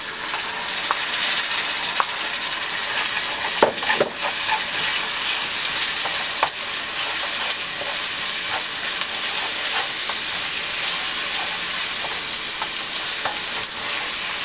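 Whole spices, bay leaf, cloves, cardamom and peppercorns, with ginger garlic paste sizzle loudly in hot oil for cauliflower chicken, a dense steady frying hiss with occasional scrapes of a stirring spoon, close and continuous.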